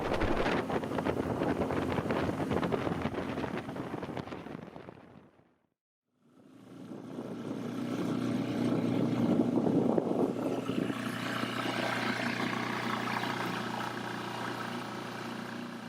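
A light boat's outboard motor drones steadily while running up a river through choppy water, with heavy wind buffeting the microphone; the noise drops out briefly near the middle, then returns at a steady, fairly close hum.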